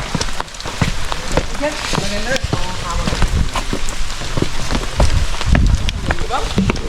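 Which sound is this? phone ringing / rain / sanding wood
rain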